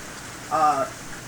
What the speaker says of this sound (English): This kind of rain right now